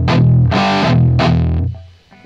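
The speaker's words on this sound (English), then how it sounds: "kind of sounds more like a solid state amp" Three loud, heavily distorted guitar chords ring out through an Axe-Fx amp model set to a harsh, solid-state-like high-gain tone, each chord cut short before the last fades out.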